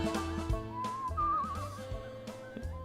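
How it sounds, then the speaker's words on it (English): A character whistles a short melodic run of wavering notes in the folk-travel game Where the Water Tastes Like Wine, over soft instrumental background music. "Hold LB to whistle."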